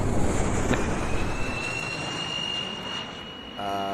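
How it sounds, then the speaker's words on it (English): Boeing 737 jet engines in a flight simulator game winding down after taxiing to the gate, a steady loud whine and roar that slowly fades and falls in pitch, with a faint tonal hum appearing near the end. "I'm gonna go ahead and shut down the engines though because I want to fuel this baby."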